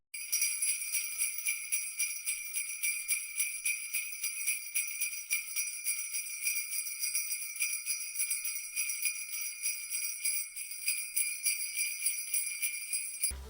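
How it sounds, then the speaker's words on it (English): Ice rattles inside a cocktail tin shaken hard, giving a fast, even, bright clatter of rhythmic strokes that keeps going for over ten seconds before stopping. "Grab some ice and give it a shake."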